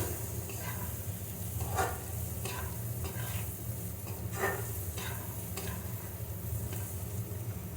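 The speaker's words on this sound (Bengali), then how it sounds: "ভালো করে নেড়ে চেড়ে মিশিয়ে নিতে হবে।" A fish-head dish with fried rice is stirred in a pan over steady sizzling, with a rhythmic series of scrapes and knocks from the spoon repeating about every second, close by and without talk.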